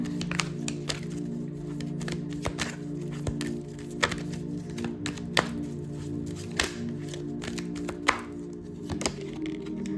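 Oracle cards are shuffled with a string of sharp taps and thunks in an irregular rhythm, close and moderately loud over a constant low hum.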